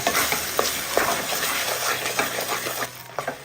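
Ground paste being stirred into a pan over a low flame while cooking urad dal and tomato, a spoon scraping and clinking against the pan in an irregular rhythm over a soft, steady sizzle.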